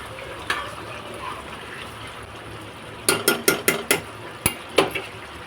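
Ivy gourd and drumstick masala curry being stirred after garam masala powder goes in: a spoon scrapes the pan in a quick run of six or seven close, sharp clinks, with scattered softer taps and a faint simmer between.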